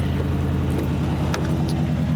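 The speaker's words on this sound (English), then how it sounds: "Let's hear this V8 real quick" A V8 car engine runs with a deep, loud, throbbing idle rumble, steady and close throughout, with a faint metallic jingle partway through.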